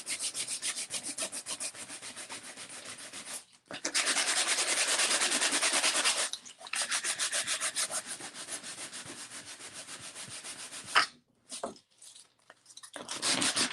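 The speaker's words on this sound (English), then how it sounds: "I think I'm just going to start sanding right here and see" Steady back-and-forth sanding strokes rasp against a painted surface in long sustained passes, pausing briefly, then resuming in short bursts.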